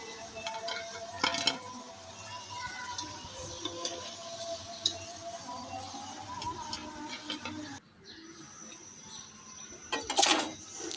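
Fried potatoes lifted from hot oil in a pan while cooking chicken kacchi biryani: a faint ongoing sizzle with occasional clinks of a metal utensil against the pan, quieting briefly before a final clatter.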